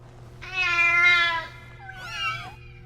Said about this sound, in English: the meow.